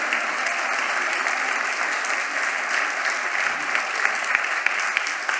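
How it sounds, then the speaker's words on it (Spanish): Steady, dense applause from an audience cheering a performer, many hands clapping continuously at an even level throughout, close and loud with no pauses. "Fuerte el aplauso para nuestra compañera que sacó todo lo que tenía guardado."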